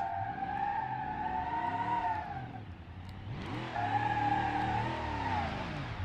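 A Moonhawk speedway car's engine starts and idles in BeamNG Drive, a steady mid-loud motor hum with a rising whine that dips briefly and then comes back stronger, with no speech over it.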